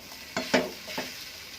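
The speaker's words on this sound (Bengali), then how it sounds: "এবার আমি যে মাছটা আমি ম্যাশ করে রেখেছিলাম কাঁটা ছাড়িয়ে, সেই মাছটা দিয়ে দেবো, দিয়ে ভালো করে নেড়ে চেড়ে আবার সমস্ত কিছু মিশিয়ে নেব" Mashed, deboned fish being stirred into a cooking mixture in a pan for fish balls, with three quick scraping strokes over a quiet sizzle.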